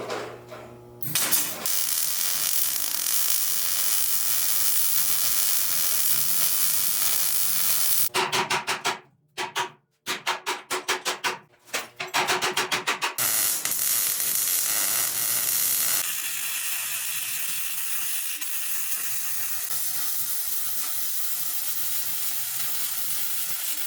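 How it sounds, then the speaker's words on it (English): Steady crackling buzz of tack welding a metal plate on a Jeep Wrangler, loud and close, broken by a few short gaps before the arc sounds resume, then a quieter hiss. "I'm going to tack weld the top of this on here like that"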